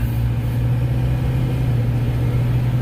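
An old Detroit 8.2 liter V8 diesel on a bucket truck runs at a steady, close, droning rumble with no change in pace.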